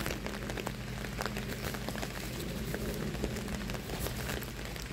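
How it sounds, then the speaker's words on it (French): Steady rain falling outdoors, a dense continuous patter with scattered individual drop ticks, even and unbroken throughout, with no talking. "il pleut là"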